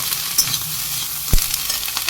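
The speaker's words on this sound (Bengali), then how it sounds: "ক্যাপসিকামটা সামান্য একটু ভাজা হোক" Chopped capsicum fries in a pan, a steady soft sizzle with occasional stirring scrapes and a sharp knock of the spatula against the pan.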